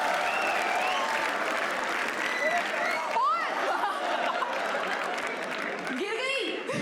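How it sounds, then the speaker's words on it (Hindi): Audience applause and clapping from a live comedy show crowd, dense and sustained, with laughter, chatter and a few voices rising above the clapping. "ताली बजाओ भाई"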